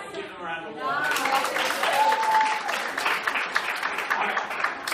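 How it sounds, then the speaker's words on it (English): An audience at a music educators' conference session gives a round of applause; after a brief voice, a full burst of clapping from many people rises and continues steadily with voices mixed in. "Give them a round of applause."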